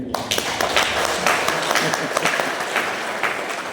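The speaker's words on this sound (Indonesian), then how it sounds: "Kita berikan aplaus." Audience applause at a family commission workshop, a steady burst of clapping from a crowd for nearly four seconds.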